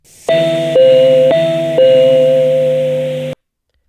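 An alternating announcement chime from DVA 5 software rings four bell-like tones that swap back and forth between two pitches, the last one sustaining before an abrupt stop, clear and alone.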